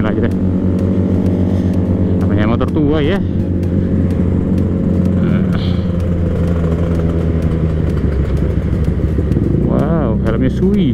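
An old Suzuki GSX-R600 sport bike rides steadily at an easy pace, its engine droning loud and close throughout, with a few rising and falling rev sweeps and faint voices mixed in.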